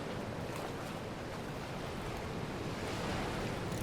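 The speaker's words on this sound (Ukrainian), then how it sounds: "море хвилюється" Stormy sea waves in the fishing horror video game Mourning Tide, a constant roaring wash of surf and wind, fairly quiet and steady throughout with no talk.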